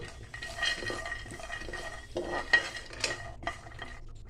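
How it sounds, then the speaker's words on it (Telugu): Peanuts, sesame seeds and cashews frying in a pan on a stove, with faint sizzling and repeated scraping and stirring clinks of a utensil against the pan, quiet and close. "స్టవ్ ఆన్ చేసుకొని పల్లీలు నువ్వులు జీడిపప్పు అన్నీ ఇట్లా ఫ్రై చేసుకోవాలండి"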